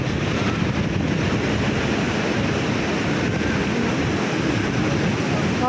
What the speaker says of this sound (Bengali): জলটা কি সুন্দর যাচ্ছে, দারুণ সুন্দর জল যাচ্ছে।